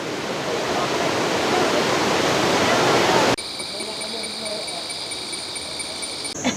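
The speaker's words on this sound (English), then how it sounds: "it's a beautiful waterfall." The Telaga Tujuh seven wells waterfall in Langkawi roars as a loud, dense rush of falling water, then cuts abruptly to a quieter outdoor scene with steady high insect buzzing.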